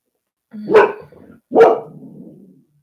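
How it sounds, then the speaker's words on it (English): A dog barks twice close by, each bark a loud sharp burst with a short trailing tail, spaced about a second apart, outdoors near a barbecue shed. "his dog's barking now"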